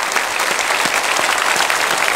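Church congregation at a Sunday anniversary thanksgiving service applauds steadily, a dense, even wash of many hands clapping with no break.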